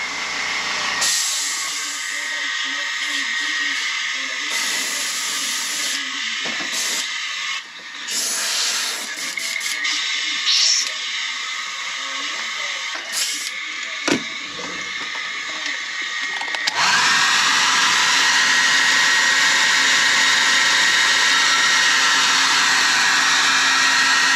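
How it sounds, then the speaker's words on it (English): A heat gun or dryer blows with a continuous hiss while airbrush paint is heat set and the spray gun is cleaned, with clicks and shifting bursts midway before a louder steady roar takes over. "Now we'll heat set that and clean out the gun real fast."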